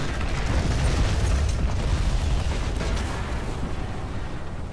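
A tank's fuel tanks rupture and explode in War Thunder, a loud, continuous roaring blast of fire and debris that stays dense for several seconds before easing slightly toward the end.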